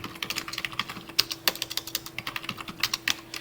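Code being typed on a computer keyboard, a close, steady run of crisp key clicks with uneven rhythm and occasional louder strokes, with no talk.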